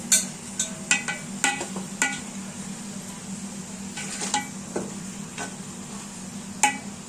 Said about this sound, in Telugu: ఇలా ఈ గ్రేవీలో ఫ్రై చేసి పెట్టుకోవాలి.